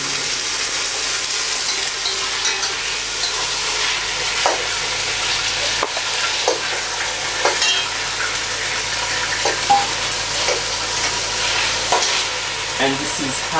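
Chicken meat fries in hot oil for a Haitian chicken sauce, a steady bright sizzle with repeated scrapes and clacks of stirring throughout, close and fairly loud, with no talking.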